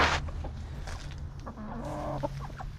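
Several chickens clucking close by in irregular bursts, over a low steady hum.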